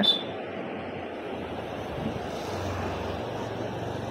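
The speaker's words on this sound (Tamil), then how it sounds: "அந்த அருவியுடைய சத்தம் உங்களுக்கு கேட்குதான்னு பாருங்க" Thoovanam waterfall pouring into a forest valley, a steady broadband rush of falling water that holds evenly throughout, with a low rumble underneath and no clear speech.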